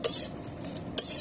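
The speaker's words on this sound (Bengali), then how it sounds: "শুটকি এখন বেজে নিব" Dried fish (shutki) is fried in a pan, with a utensil scraping and stirring in two quick, close clatters over a faint background hiss.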